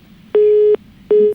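A telephone busy tone after a hung-up call: two loud, clean, steady beeps, each lasting under half a second, separated by a short silence.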